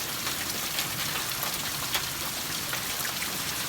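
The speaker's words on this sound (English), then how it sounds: "boy, we sure had some hail coming." After a hailstorm, steady rain falls outdoors, making a dense, even hiss of drops striking hard surfaces at constant loudness with no voices.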